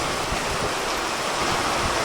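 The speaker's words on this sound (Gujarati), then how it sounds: "10-15 મિનિટથી વરસાદ ચાલુ છે અત્યારે હાલની અંદર અને મોટા છાંટા છે" Heavy rain with big drops keeps up a constant full hiss and patter nearby, steady and even throughout the short stretch, with no voices.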